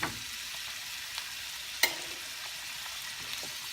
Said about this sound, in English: Give it a good stir. Time to put our